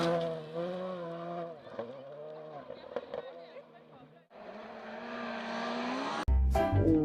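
A toy race car gives out electronic engine sounds, wavering tones that rise and dip in short bursts, ending with a loud, crackling burst while a person talks nearby.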